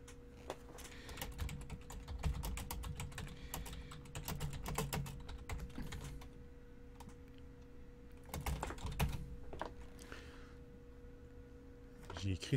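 Someone typing a message on a computer keyboard, with steady runs of rapid soft key clicks over a faint low hum, the pace slowing near the end.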